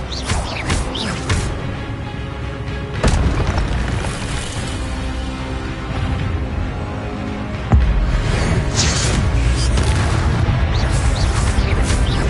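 The Incendio fire spell is cast in the video game Hogwarts Legacy amid loud, dense combat noise, with booming blasts and crackling bursts that surge sharply at a couple of points.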